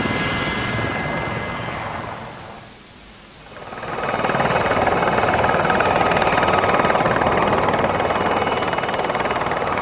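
Army training helicopter flying circuits, a loud steady rotor and turbine roar that fades briefly near three seconds, then swells back to a strong continuous drone.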